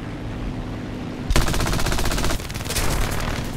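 Machine guns of an I-15 fighter plane in War Thunder open fire in a sudden, loud, rapid burst after a moment of engine drone, then keep rattling in fast rhythmic volleys, pausing briefly and resuming.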